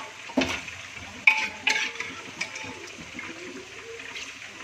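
Beef masala for a dum beef biryani sizzles and bubbles in a pan while the beef's cooking water is poured in, giving a steady fry with a few sharp stirring clatters.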